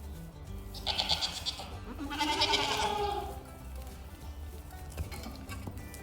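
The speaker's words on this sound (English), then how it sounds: "even goat kids get crazy and wild sometimes" Young goat kids on a spring farm bleat in two bursts, the first short and the second louder and longer, with a faint patter and farmyard background between and after the calls.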